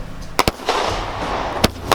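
Saturn missile fireworks with 200 shots fire off in a quick series of sharp, loud cracks and pops spaced unevenly over a steady hissing, crackling background, with no talking.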